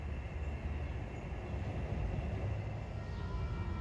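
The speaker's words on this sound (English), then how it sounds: "12:23 is train 8737 en route from Spionk to Babylon." A Long Island Rail Road train approaches a grade crossing east of Patchogue as a steady, distant low rumble that holds without a break throughout.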